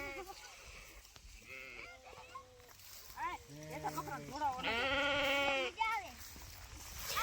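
Sheep and goats bleat repeatedly on a farm, several wavering calls overlapping, the loudest a long sustained bleat near the end, with faint voices in the background.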